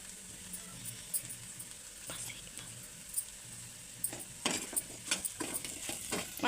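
Fried potatoes being stirred in a pan with spice powder for a simple potato fry, giving scattered scrapes and light clinks over a faint background sizzle, busier toward the end.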